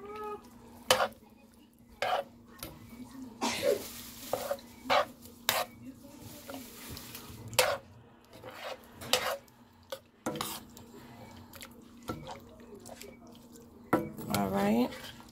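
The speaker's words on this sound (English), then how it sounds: "And let you stir that up." Shrimp nacho filling stirred in a pan, with repeated sharp utensil clinks and scrapes against the metal over a soft sizzle, and a voice speaking now and then.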